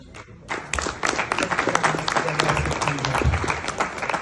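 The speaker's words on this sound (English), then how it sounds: "Can we please put our hands together as we welcome Honorable Dr. James Alic Garang" An audience breaks into applause to welcome Honorable Dr. James Alic Garang at an African leadership event in London, a brief hush giving way to dense, sustained clapping that grows louder and holds, with faint voices mixed in.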